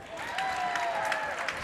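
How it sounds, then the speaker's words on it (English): A basketball crowd at a boys' high school senior-night game reacts to a referee's call with a dense, sustained wash of applause and crowd noise, with a tonal whistle-like line running through it. "Unlike Tony Rumo, I wanted to make sure that the you could hear the crowd noise to the displeasure of that call."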